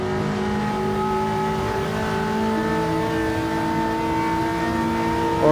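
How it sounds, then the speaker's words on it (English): A Maserati sports car running at high speed on the Nürburgring, heard as a loud, steady engine drone with sustained tonal whine that holds throughout without a clear rise or fade. "So yeah, I think that's a Maserati up there."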